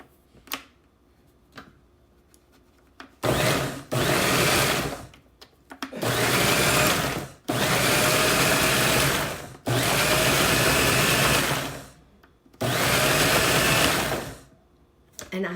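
A countertop blender pulsing a copycat Chuy's-style creamy ranch dip in repeated loud bursts of one to two seconds each, separated by short quiet gaps, close and alone.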